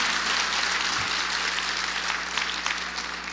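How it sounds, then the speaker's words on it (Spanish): A church audience applauds the grandmothers with steady, dense clapping. The sound is loud and continuous, with a low hum underneath, and no voices. "un aplauso para las abuelas"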